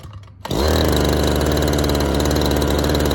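A small engine kicks in after a brief quiet start and holds a steady, loud high idle with a buzzing drone, close by, running with the choke off.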